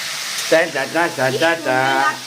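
Vegetables sizzling and frying in a pan while upma is being cooked, a steady close hiss running under a voice talking.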